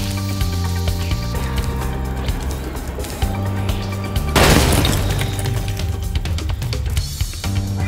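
A statue explodes in Spyro Reignited Trilogy: a sudden loud shattering burst about midway through, over steady game music, then the music carries on.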